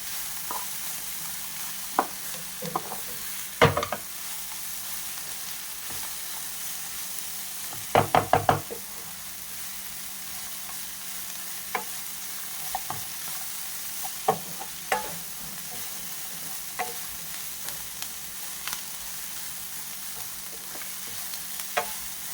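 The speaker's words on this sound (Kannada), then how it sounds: "One pinch off turmeric powder ಹಾಕ್ಕೊಳ್ಳಿ. ಚಂದ ಫ್ರೈ ಮಾಡಿ." Something fries gently in a pan after a pinch of turmeric powder goes in, a steady faint sizzle under occasional sharp spoon knocks and scrapes, with a quick cluster of taps partway through.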